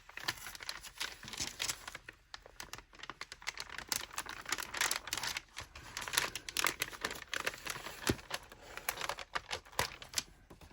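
Homemade wax paper being peeled up, giving a continuous run of fine crackling and crinkling ticks with small rapid snaps throughout, fairly close and quiet, with no talk.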